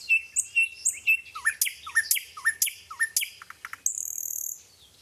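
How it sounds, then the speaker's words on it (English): A songbird sings outdoors, close and clear, in a rapid run of repeated chirping phrases that ends in a brief trill. "We can hear music in the sounds of birds."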